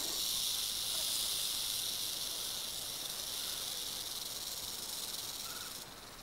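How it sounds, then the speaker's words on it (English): A western diamondback rattlesnake rattles its tail in a continuous dry, buzzing hiss, steady and fairly faint, alone without voices and tapering slightly at the end. "the rattle is one of the most effective defenses in nature, giving fair warning in plenty of time."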